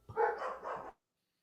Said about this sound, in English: The dogs are going at it.